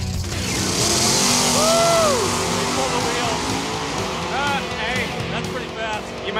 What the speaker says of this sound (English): Getting some nice burnouts here.